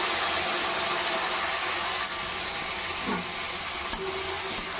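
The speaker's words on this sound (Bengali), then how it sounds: "আবার এই তেলেই চিকেনটাকে একটু ভেজে নেব নুন দিয়ে।" Chicken frying in oil with salt for capsicum chicken, a steady hissing sizzle that drops slightly partway through, with a couple of brief clinks near the end.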